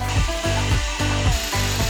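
Power drill fitted with new bits boring into very hard concrete, a loud, close, continuous grinding whine with a steady pulsing beat about twice per second and no voices.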